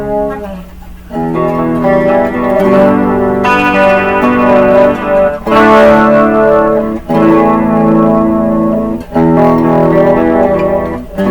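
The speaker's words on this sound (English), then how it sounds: "Let me turn on a little reverb and chorus for you here." Electric guitar through an EMG pickup with reverb and chorus, sustained chords ringing continuously with a shimmering, washy tail and a few brief pauses between strums, loud and alone.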